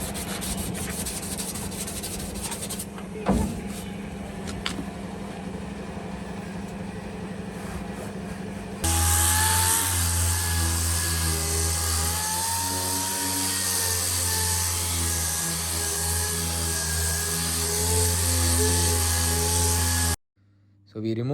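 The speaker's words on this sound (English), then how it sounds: "sand it off by using a pneumatic hand sander" A pneumatic hand sander works over car body paste in a garage, giving a steady, loud whirring rub that starts suddenly partway through and runs unbroken until a brief cutoff near the end, after quieter scraping at the start.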